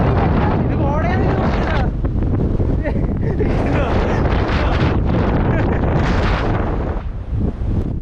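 Strong wind blows across a misty hilltop at Thirunetti near Josegiri, roaring and buffeting the microphone loudly throughout, with voices partly heard beneath the gusts.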